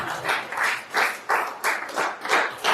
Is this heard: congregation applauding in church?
yes